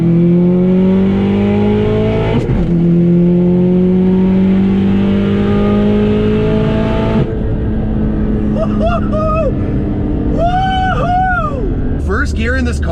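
A 500HP Subaru STI pulls hard from first gear upward, engine pitch climbing steadily, a sharp break at each shift, then rising again, loud and close from inside the car, with voices briefly heard near the end.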